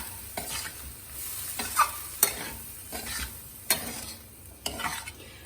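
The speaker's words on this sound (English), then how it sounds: "And mix it very well" Corn rajma bhel being stirred with lime juice, a spoon scraping and clinking against the bowl in several distinct strokes, close and alone with no voices.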